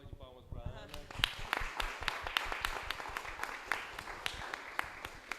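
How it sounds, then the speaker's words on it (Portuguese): A crowd applauding steadily at a fintech and banking-regulation event, many hands clapping in a dense, lively burst that continues throughout, with a brief voice at the very start. "Uma salva de palmas para a Ana."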